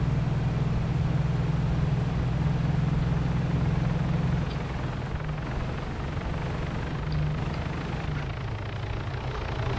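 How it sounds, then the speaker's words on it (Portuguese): A helicopter in the video game Arma 3 (Altis Life) drones steadily with a low rotor hum, loud and continuous throughout, easing slightly about halfway through, with no talk. "Tá vindo com o helicóptero, estão pausando."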